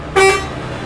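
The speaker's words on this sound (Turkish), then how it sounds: "Of korna çok felaket" A truck horn in Euro Truck Simulator 2 sounds one loud, steady tonal blast of about a fifth of a second over a low engine rumble, then cuts off and leaves the engine droning.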